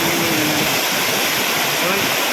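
Shoolam waterfall in Maradi panchayat, a loud, continuous roar of falling water close by, steady throughout with a faint voice beneath it.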